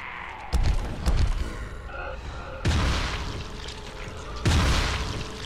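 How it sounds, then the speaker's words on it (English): Two heavy explosions go off in the video game Dying Light, each a loud boom with a rumbling tail, the second following about two seconds after the first, amid other game noise. "Not expecting a double explosion"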